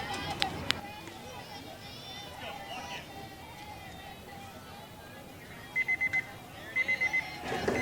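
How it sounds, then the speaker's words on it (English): A game timer at a 13U versus 14U girls' softball game goes off as two sets of four quick, evenly spaced electronic beeps near the end, over a steady outdoor crowd murmur and distant voices. "And there goes the timer."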